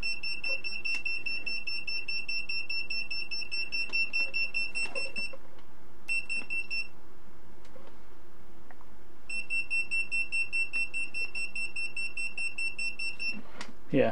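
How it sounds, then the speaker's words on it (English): A FNIRSI ERD-10 electromagnetic radiation meter gives off a steady high-pitched repeating beep, pausing twice briefly before resuming, close and continuous. "Yeah, anyway, it beeps, apparently."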